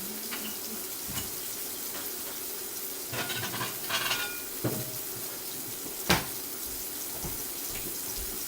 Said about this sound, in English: if you can hear that sizzling sound, that's a sign of the cooking.